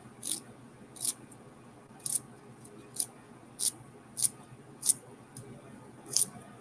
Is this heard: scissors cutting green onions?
yes